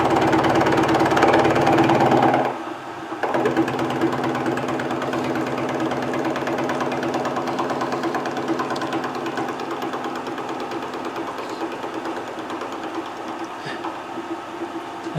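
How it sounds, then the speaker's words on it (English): A small hog mill machine trims the ends of metal parts with a steady mechanical whir and grind that briefly drops after the first couple of seconds, then continues evenly and close. "They're not a bad little hog mill"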